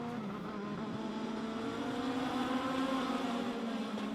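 Legends race cars circling Meridian Speedway on a Saturday night, a steady loud engine drone from the pack holding throughout, with no pauses or distinct passes.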